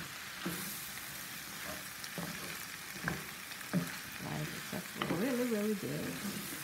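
Beef fries in a pan with a faint, steady sizzle, broken by occasional stirring scrapes and clinks, and a short tonal squeak near the end.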